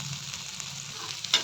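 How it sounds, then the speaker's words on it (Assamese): Potatoes fry in a pan before rice is added for fried rice, a steady close sizzle with a few stirring scrapes and a louder clatter near the end, no voices. "মই ফ্ৰাইড ৰাইচৰ কাৰণে আলুখিনি ভাজি আছোঁ"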